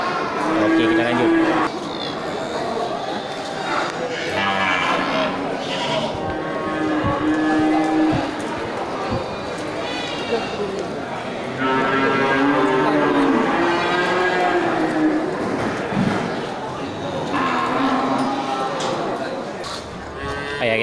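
Big cattle at a livestock market stall give repeated long moos, several animals calling near and far over constant crowd noise and voices.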